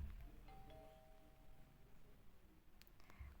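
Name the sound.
doorbell ringing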